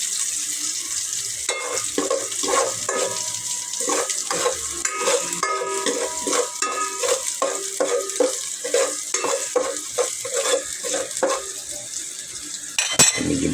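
Chicken for tinola browns in a pan, a steady sizzle broken by repeated clattering stirs and scrapes of a utensil against the metal, close and fairly loud.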